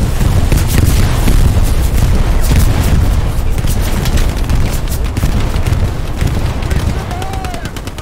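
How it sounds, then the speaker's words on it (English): Heavy bombing run explosions in the Hell Let Loose war game, loud booming blasts mixed with dense gunfire rolling continuously and slowly fading toward the end. "That's a bombing run."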